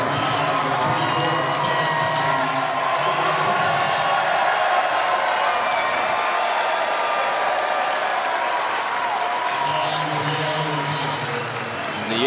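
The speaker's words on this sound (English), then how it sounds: "Crowd sensing the moment coming right now, letting their team feel their adulation." Basketball arena crowd at the Yale vs Harvard Ivy League men's championship game cheering and applauding steadily, a loud sustained roar of many voices and clapping that holds throughout without pause.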